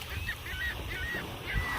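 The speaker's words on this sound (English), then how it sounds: "Got a few seagulls here, a couple seagull friends." Seagulls let out a few squawking calls in quick succession on a lakeshore at Presque Isle State Park, a short burst of cries over a low rumble of wind.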